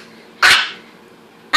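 A small Maltese dog gives two sharp, loud barks close by, about a second apart, with quiet room tone between them.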